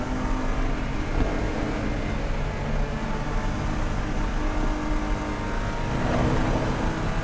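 A race car engine drones loudly and continuously on the track at Lime Rock Park, a steady roaring hum with slight shifts in pitch as it runs along.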